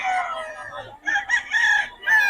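Roosters crow in bright, harmonic bursts, rising and falling over about two seconds with brief breaks, fairly close and loud.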